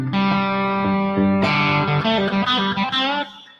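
A distorted electric guitar riff with sustained, gritty chords that shift pitch in a short phrase, loud and close, then cut off abruptly.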